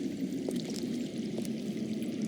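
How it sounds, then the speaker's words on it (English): Water runs underground in the Game of Thrones video game, a steady rushing, pouring stream that stays constant throughout, fairly loud and unbroken, with no voices. "I hear water. From underground."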